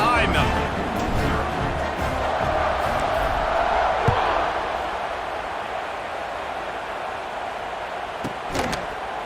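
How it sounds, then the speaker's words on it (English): A stadium crowd in the College Football 26 video game roars at kickoff, a dense, continuous wash of cheering that fades slightly near the end, under a commentator's voice, with a few sharp thuds. "this crowd now ready to get behind them"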